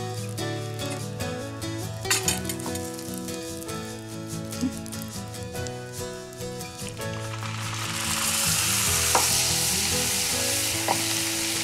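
Orange juice hits golden caramel in a pan, and a bright frying sizzle rises loud and steady over a stirred pan, swelling broader near the end with a few small clinks.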